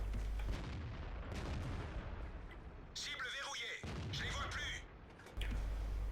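Tank cannon fire in the World of Tanks game, two sharp booming shots with crackling bursts around the three- and four-second marks over constant battle noise and low rumble, with talk running underneath.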